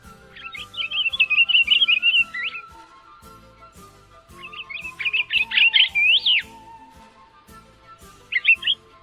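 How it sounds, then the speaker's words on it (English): A pine grosbeak sings sweet warbling phrases in three clear bursts, with a quieter final snippet, over a faint rhythmic ticking background. "The pine grosbeak's song is a sweet-sounding warble, and its call is a 3-note whistle."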